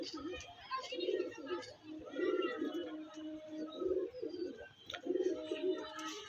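Pigeons coo in a steady series of soft, throaty calls repeating every second or so, close by, with faint chirps and background murmur.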